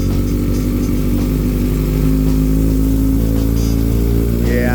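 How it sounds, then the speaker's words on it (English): A 2015 Kawasaki Ninja ZX6R 30th Anniversary Edition with a Graves exhaust revs hard and close, a deep, loud, sustained engine roar that climbs slightly in pitch toward the end. "Nice deep sound to that Graves exhaust"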